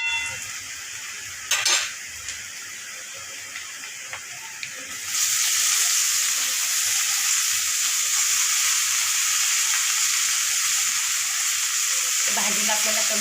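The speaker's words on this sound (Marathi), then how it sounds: "आता याच्यात भाजीत घालून घ्यायची आणि भाजीलाही परतवून घ्यायचे" Fenugreek leaves and onion in a pan, first stirred with a few metal clinks and scrapes, then a loud, steady sizzle of frying that holds on for several seconds.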